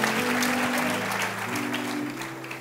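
A church congregation applauds, a brief burst of many hands clapping that carries on steadily, moderately loud, over a faint sustained musical tone.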